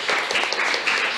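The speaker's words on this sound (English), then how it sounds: "we should give them a round of applause" Audience applause for conference panelists at the close of the final panel on civil society and democracy, a steady wash of many hands clapping at moderate volume throughout, with no talking over it.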